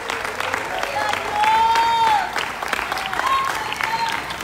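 A church congregation claps together in sustained applause, a dense steady patter filling the room, with voices shouting over it.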